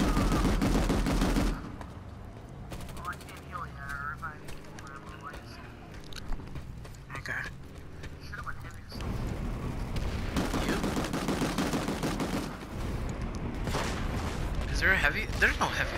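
Gunfire in the game PlanetSide, bursts of shots mixed with game noise and loud voices talking over it.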